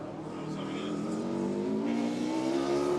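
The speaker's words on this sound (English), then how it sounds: "it's something making a very weird whining noise out there as well" Formula Student race cars circulate on track, their engines droning steadily at a distance with a thin, odd whine rising over the motor noise; a voice talks faintly underneath.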